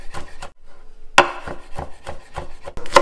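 A knife chops garlic on a cutting board in quick, irregular close knocks after a brief silent gap, with no talking.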